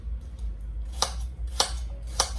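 A knife chops apples into tiny pieces on a board for an apple cake. Three crisp cuts are spaced about half a second apart, close by and fairly quiet over a low background hum.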